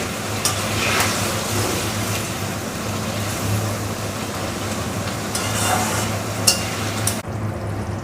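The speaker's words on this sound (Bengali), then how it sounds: "মাছ দিয়ে কিছুক্ষণ ফুটিয়ে নেব।" Rohu fish curry (Bengali rui macher jhol) bubbles and sizzles steadily in a pan, a close, even simmer with faint clinks and no talking.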